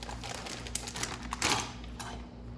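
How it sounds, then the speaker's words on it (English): Knife chopping peppers on a cutting board while cooking store-bought ramen, a quick run of soft, rapid taps close by, with a louder cluster midway. "I also forgot that I needed to cut some peppers"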